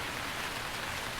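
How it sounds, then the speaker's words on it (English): Rain falls steadily inside a cave in a video game, a dense, even hiss of drops with no other sounds over it. "How is it raining in the cave?"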